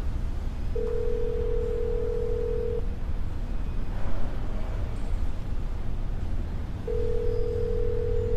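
Telephone ringback tone of an unanswered call, two long steady tones about two seconds each separated by a gap, heard over a loud rumbling background noise.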